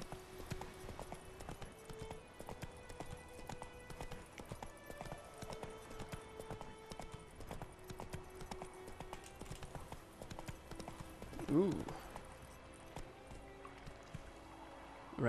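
Rhythmic clip-clop of horse hooves beats steadily at a gallop in The Witcher 3, over ambient game music and outdoor sounds, with a brief louder swell near the end.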